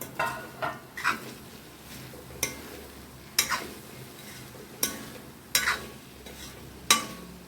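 Mint rice being stirred in a pan with ghee, giving intermittent scraping clinks of a spoon against the pan roughly every second or so over a low background, with no voices.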